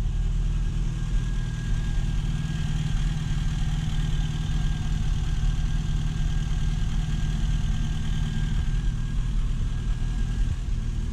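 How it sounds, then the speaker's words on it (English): A classic Mini engine idles steadily close by, a low even rumble with a constant hum and no voices. "It just starts on the button, idles nicely."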